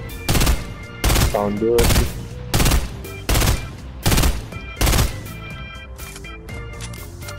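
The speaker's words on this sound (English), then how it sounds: "I'm gonna shoot it down." Gunfire in Fortnite Battle Royale: seven loud, evenly spaced bursts of automatic fire over about five seconds, close and punchy, with a player speaking briefly between shots.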